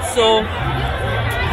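A big festival crowd at the Holi celebration in Mayapur ISKCON, a dense continuous babble of many voices heard close around, with a single speaker briefly talking over it.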